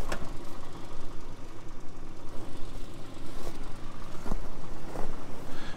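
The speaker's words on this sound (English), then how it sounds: "Engine still sounds a little noisy." A car engine idles roughly and sounds noisy, giving a steady, fairly faint mid-range churn with irregular knocking pulses and a few sharp clanks, all without voices.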